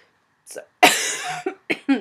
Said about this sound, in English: I'm going to be coughing quite a bit.